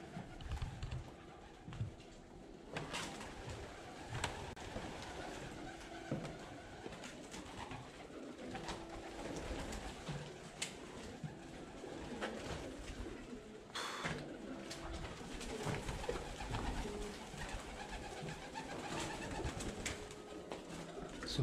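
Pigeons coo softly and repeatedly inside an abandoned church, a faint, hollow murmur in a quiet, echoing space, with occasional wing flutters and no talk.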